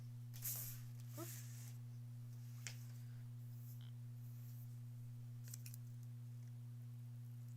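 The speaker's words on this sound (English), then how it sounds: "Just gonna snip all that off." Scissors snipping off quilt fabric during quilt block sewing, a few faint, quick cuts early on over a steady electrical hum, followed by quiet small clicks.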